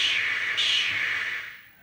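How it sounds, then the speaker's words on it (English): The cannon sound effect from a Zaxxon arcade machine under test, a short hissing burst of noise that swells slightly midway and then fades out within about two seconds. "Pin 25 is cannon."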